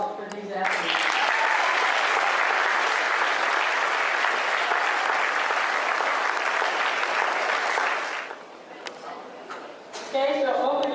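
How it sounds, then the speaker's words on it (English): An audience applauds student athletes at a school signing day ceremony, a loud, dense burst of clapping lasting about eight seconds before tapering off, with voices speaking before and after. "let's have an applause for these athletes"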